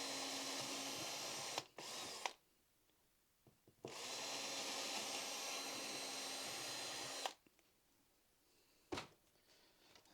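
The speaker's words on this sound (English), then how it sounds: "drill through" A power drill whirs in two bursts, drilling a 10mm hole for wires in a model railway baseboard, a short one then a longer steady run, with quiet pauses and a few clicks between.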